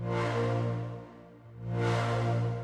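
Sustained synth pad chords swell and dip in a slow wobble, the tone opening bright, closing to a muffled low hum, then opening again. No voices.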